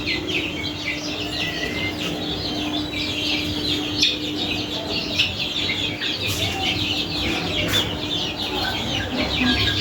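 Native country chicken chicks cheeping and clucking continuously, many birds close together, with small scratches and rustles in the background.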